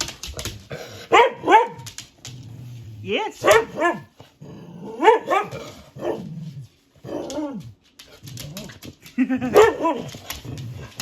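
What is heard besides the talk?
dog barking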